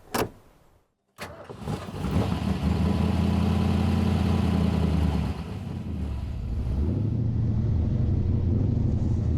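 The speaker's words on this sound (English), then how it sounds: "There's nothing like the rumble of a V8." A V8 engine fires up after a short crank and settles into a deep, steady, close rumble, its low throb holding for several seconds and then easing to a slightly lighter idle, with no talk over it.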